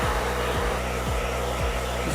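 A blow dryer roars steadily and loudly as it dries curly hair for volume, a continuous close whoosh with slight periodic wavering in tone as it is moved around.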